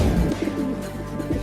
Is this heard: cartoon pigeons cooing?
yes